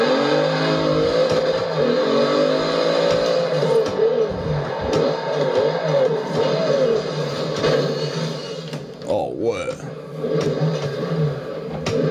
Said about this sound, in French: Dès qu'elle monte dans les tours, elle a vraiment de la puissance quand même.